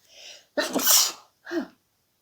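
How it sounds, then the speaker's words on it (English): A sneeze: a soft breathy intake, then a sharp loud burst, followed by a brief, quieter trailing sound, close by and otherwise quiet. "So I sneezed"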